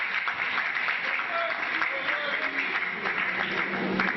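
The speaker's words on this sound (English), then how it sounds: "Give him a good clap." Audience clapping at a Biafra human rights rally, a dense, steady wash of hands from a crowd held at the same level throughout, with voices mixed into the applause.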